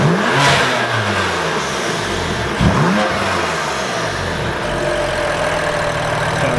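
A BMW F80 M3 with an SSR intake revs hard nearby, with loud rising and falling engine sweeps and a sharp blip near the middle over a steady idle.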